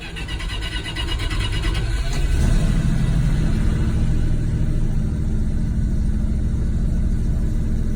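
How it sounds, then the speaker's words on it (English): A 1968 Dodge D200 truck, left sitting three weeks in an open shed, starts from cold and settles into a steady, loud low rumble that runs on without a break. "Starts up nice and easy."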